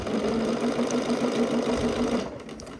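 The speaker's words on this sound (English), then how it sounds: "I am just going to sew right to the left of that top basting stitch" A sewing machine stitches steadily at regular stitch length around the hem of a dress near the basting line, a close, even mechanical whir that runs for over two seconds before stopping.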